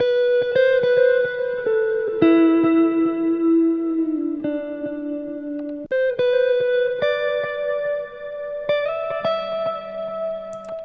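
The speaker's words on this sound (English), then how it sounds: "I used the Corion guitar amp. It is just the default, and I added the EQ and reverb, delay" Electric guitar, a Telecaster through an amp with EQ, reverb and delay, plays sustained melodic notes and chords with reverb and delay tails ringing out, clear and upfront, no voices.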